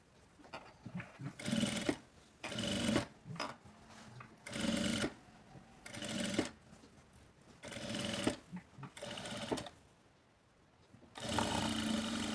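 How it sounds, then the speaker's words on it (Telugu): A sewing machine stitches blouse fabric in repeated whirring bursts of a second or two, separated by short pauses, close and clear with no talking. "ఇలా స్టిచ్ చేసుకున్న తర్వాత"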